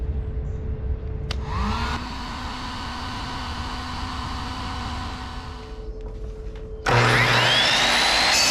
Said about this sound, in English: Now we have a heat gun.